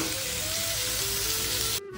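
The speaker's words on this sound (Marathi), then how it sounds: "तर अशा पद्धतीने तुम्ही व्यवस्थित याला तेलामध्ये व्यवस्थित फ्राय करून घ्या." Noodles fry in hot oil for homemade Chinese-style noodles, giving a loud, steady, close sizzle that cuts off abruptly near the end.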